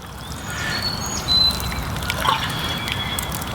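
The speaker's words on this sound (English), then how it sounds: "you always want to make sure you water it in real nice" Water is poured over freshly sown Black Beauty zucchini seeds in a garden container, a steady close trickle and splash that runs throughout with small surges.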